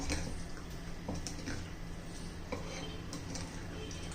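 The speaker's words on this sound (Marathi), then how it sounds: "आता हे सर्व आपण मिक्स करून घेऊया" Breakfast batter with cumin being mixed in a pot, with soft scraping and occasional light clinks of a utensil against the metal over a steady low background.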